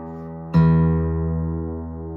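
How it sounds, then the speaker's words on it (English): A single low E struck on a piano, a sharp attack followed by a rich sustained tone that slowly decays, heard close and alone. "I'm going to play an E on the piano. I'm actually going to play the lower E."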